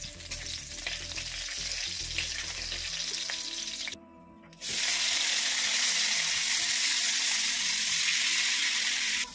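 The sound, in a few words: vegetables frying in oil with panch phoron on clay stove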